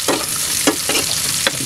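Red pepper stirred into a hot pan with garlic and onion, giving a steady background sizzle broken by a few brief scraping stirs.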